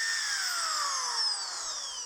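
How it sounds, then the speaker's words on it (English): A power drill bores out an epoxy-filled hole, its steady high whine sliding gradually lower in pitch as it loads up, loud and close for a short continuous stretch. "we're going to use our drill to drill out the hole."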